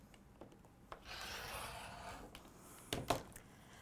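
A rotary cutter rasps steadily across quilting fabric on a cutting mat, a soft sustained scraping stroke between a few light taps and clicks, close and quiet.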